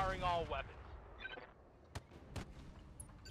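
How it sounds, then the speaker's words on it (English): Artillery strike in the BattleTech mod RogueTech: two sharp, fairly faint booms land about half a second apart over quiet battlefield ambience. "We'll just drop some artillery here."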